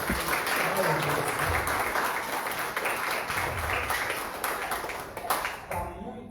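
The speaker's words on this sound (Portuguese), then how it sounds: "Vamos aplaudir a Deus." A church congregation applauds together, a dense, sustained wash of clapping that stays loud and close throughout before thinning out near the end, with scattered voices mixed into the crowd noise.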